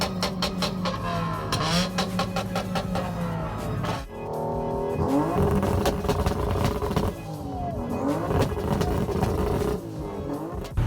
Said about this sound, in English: So I'm about to race the Copart Camaro, and I think that thing's got some motor work in it.